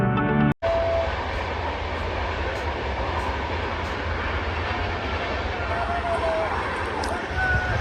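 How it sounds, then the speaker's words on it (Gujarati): A freight train rumbles past close by in a steady, broad roar with faint rattling wagons, continuing evenly after a brief cut near the start. "એટલે માલગાડી આવી ગઈ"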